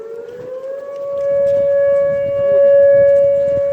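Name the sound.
city siren sounding in Duluth, Minnesota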